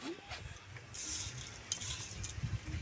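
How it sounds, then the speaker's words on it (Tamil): Kozhukattai ingredients, coconut and jaggery, being mixed together by hand in a vessel: soft stirring rustles with faint clinks, close and quiet. "இதெல்லாம் எல்லாம் சேர்த்து நல்லா கலந்துக்கலாம்"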